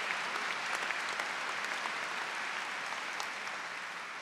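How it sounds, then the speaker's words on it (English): Parents clapping at a college commencement ceremony, a broad sustained applause from a large audience with occasional sharper claps standing out, steady and unbroken with no speech over it. "the parents are clapping"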